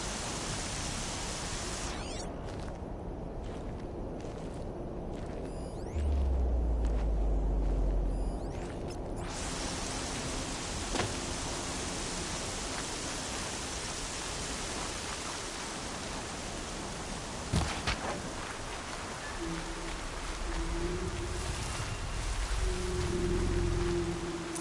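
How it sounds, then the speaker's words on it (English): Rain falls in the Horizon Zero Dawn video game, a steady, even hiss that fills the whole stretch without breaks, with a few faint low thumps and brief mechanical clicks beneath it. "Here comes the rain."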